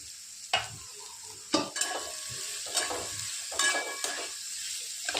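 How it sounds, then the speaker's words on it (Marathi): Chopped onion sautéing in hot oil in a pan for spicy egg bhurji, a steady close sizzle with several sharp spatula scrapes and stirring knocks spaced through it. "कांदा एक पाच मिनटं परतून घेऊ"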